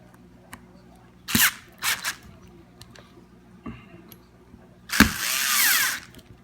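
A power drill runs in short bursts, tightening screws on a Hot Racing diff cup for a Losi MTXL RC truck; a few brief whirs come first, then a longer, louder run close by.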